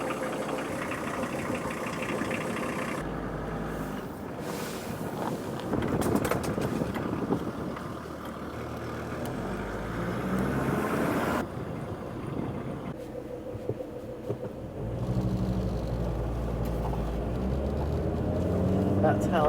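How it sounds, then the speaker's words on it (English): A big lorry squeezes past on a single-track road on a Scottish island, its heavy engine rumbling up close and then fading, heard from inside a campervan with wind noise and people talking. "That's how you get a big lorry past you in single track roads."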